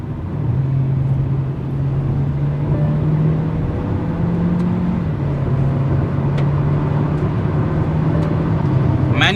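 Hyundai Verna turbo DCT engine in the cabin, dropping through gears on the paddle shifters: a steady, droning rumble whose pitch steps up and down in a few distinct shifts, with road noise underneath.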